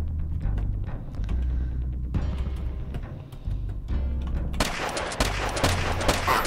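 Rapid gunfire from shooting at wooden boxes in a pirate-themed indie video game, a dense run of repeated shots over game music that grows louder and busier toward the end.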